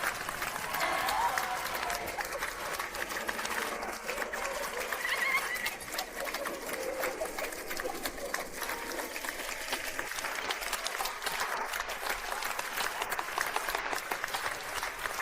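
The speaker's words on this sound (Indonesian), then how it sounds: "Tepuk tangan." Crowd applause for a contest winner being announced, a dense, continuous clatter of clapping at a fairly even loudness throughout, with voices faintly mixed in.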